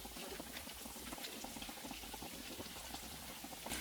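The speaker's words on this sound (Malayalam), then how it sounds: "തിരിച്ച് മറിച്ചിട്ടിട്ട് തന്നെ നമുക്കിത് ഫ്രൈ ചെയ്തെടുക്കാം കേട്ടോ" Chicken cutlets fry in a pan of oil, giving a steady, dense crackling sizzle that runs evenly throughout with no voices.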